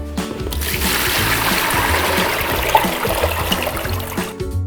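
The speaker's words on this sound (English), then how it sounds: "I'll start by filling my container with water" Water pours steadily into a container, a continuous splashing trickle that fills the space close by with no voices over it.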